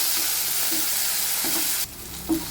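Tomatoes and onions sauté for okra poriyal, giving a steady close frying hiss in the pan with a few soft stirring clicks.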